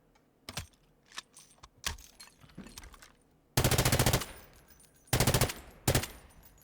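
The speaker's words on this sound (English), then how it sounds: "Do the reload animation here." The MK46 light machine gun in Delta Force is reloaded with a string of sharp mechanical clicks and clacks, followed by dense rattling bursts of rapid metallic impacts, close and crisp.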